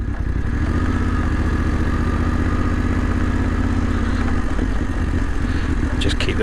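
A BMW F750 GS motorcycle engine turning at low revs, a steady, close, continuous drone running through the whole stretch with a brief clatter near the end.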